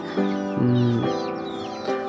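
A rooster, a plump domestic Bangladeshi deshi cock kept with hens, gives a run of close, loud clucks and throaty calls with clear harmonic tones, several separate bursts over a couple of seconds.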